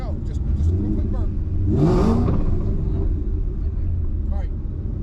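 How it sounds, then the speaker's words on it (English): A stick-shift Ford Mustang at a qualifying event does a quick burnout, its engine rumbling loudly and revving up sharply for about a second mid-clip, then settling back to a throaty idle, with people talking over it. "just a super quick spin forward and then like pull it out"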